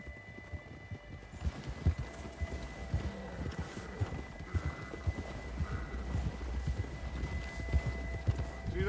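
Horse galloping in Red Dead Redemption 2, its hoofbeats drumming in a quick, uneven rhythm over a low background hum, moderately loud and continuous.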